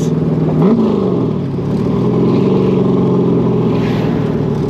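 Chevrolet Corvette Stingray V8 sports car engine droning steadily up close, with a quick rev blip on a downshift early on before settling into a sustained low rumble.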